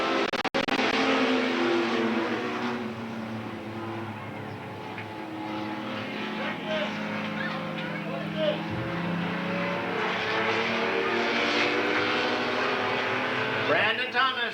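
Race cars roar around a speedway, led by a 1937 Ford Coupe, in a loud, continuous engine drone that swells and fades as the cars pass, with an announcer talking over it.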